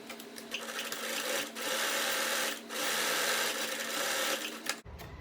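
A sewing machine stitches two pieces of glittery fabric for a face mask, a steady close whirring run with two brief pauses, then stopping abruptly near the end.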